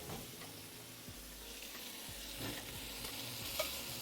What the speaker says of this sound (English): As they sear up.